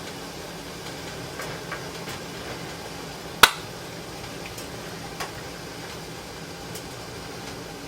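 A home-canning jar lid sealing on a jar of candied jalapeños, one sharp metallic pop standing out against a quiet room hum, followed by a few fainter ticks.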